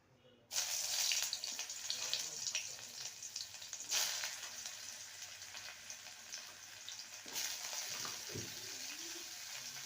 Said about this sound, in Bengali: এবার চলে যাব উচ্ছে আর রাঙা আলুকে ভেজে নেব